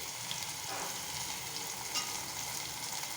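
Crushed garlic fries in hot oil with a mustard seed tempering for dal, a soft, continuous sizzle with a few faint crackles, close and alone.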